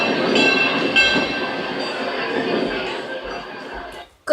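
A roller coaster train rattles steadily along its track, a continuous loud rumbling clatter that holds for about four seconds before cutting off abruptly.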